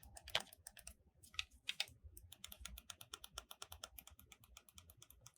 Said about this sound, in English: Clicky, clicky, clicky D-pad.